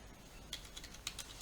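Keystrokes on a computer keyboard as a waypoint name is entered in a modded Minecraft game, a handful of faint, quick clicks in an uneven burst over a low background hum.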